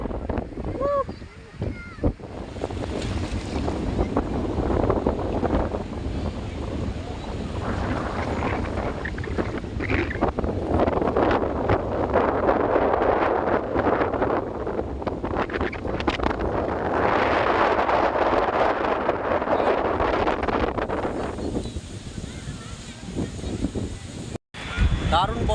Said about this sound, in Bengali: বোট, খুব সুন্দর বোট।